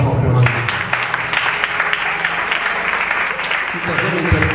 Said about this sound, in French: On l'acclame fortement.